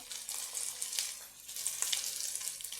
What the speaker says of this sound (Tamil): குடமிளகாய் இவ்வளோத்தையும் போட்டு வதக்குவோம்